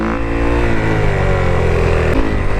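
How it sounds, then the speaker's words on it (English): Motorcycle engine held high and loud while a rider lifts into a wheelie on a bike running a tuned ECU map, a steady close roar with no break across the short stretch. "I'm gonna hit a couple more wheelies to see which one I really prefer to wheelie on"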